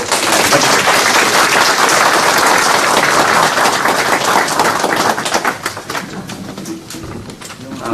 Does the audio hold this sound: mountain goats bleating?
no